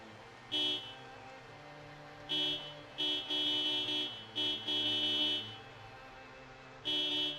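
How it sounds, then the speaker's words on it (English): Car horn honking in the zombie survival video game Project Zomboid: a series of short and longer blasts with irregular gaps, loud and steady in tone, with no talk over them. "in Project Zomboid, the honking sound only makes the sound when you press down on the button"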